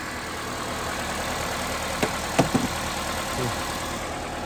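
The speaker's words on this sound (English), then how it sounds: "and the engine is smooth" A 2008 Honda CR-V engine idles smoothly after an oil pressure switch repair, a steady low hum with a few faint clicks and taps in the middle.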